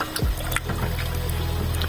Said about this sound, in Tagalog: Siyempre, dadagdagan natin yan ng tubig.